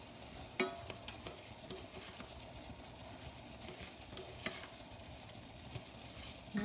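Food for Lebanese stuffed courgettes is stirred in a pan, with a soft sizzle and quiet scraping and patter running steadily throughout.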